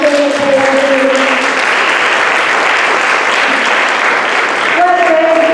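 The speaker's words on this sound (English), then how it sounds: "Can we give a big round of applause for David and Untitled Chapter?" Steady audience applause fills a lecture hall, continuous clapping from a large crowd at even loudness throughout.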